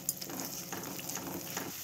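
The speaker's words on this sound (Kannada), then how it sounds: "ಇದನ್ನು ಈ ಥರ ಒಂದು ಮೂರರಿಂದ ನಾಲ್ಕು ನಿಮಿಷ ಚೆನ್ನಾಗಿ ಇದೆಲ್ಲ ಉಡುಡಿ ಆಗೋ ಥರ ಫ್ರೈ" Eggs frying in a pan for egg fried rice give a steady, close sizzle with light stirring and scraping throughout, no voices over it.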